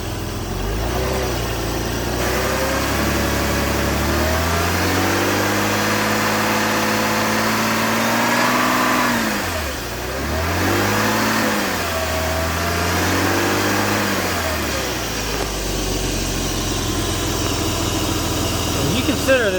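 Porsche 986 engine with a drive-by-cable throttle, idling steadily up close, then blipped in a few smooth revs that rise and fall before settling back to idle; speech is faintly present.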